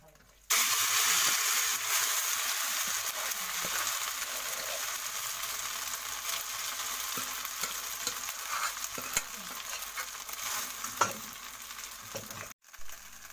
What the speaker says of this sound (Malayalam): ബാക്കി വന്ന നെയ്യിലിട്ട് നമുക്കിതിനെ ഒന്ന് വരട്ടിയെടുക്കാം